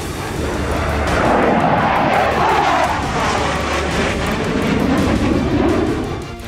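A loud, continuous fighter jet roar dominates throughout, a broad rushing engine noise that holds steady for several seconds with no voices.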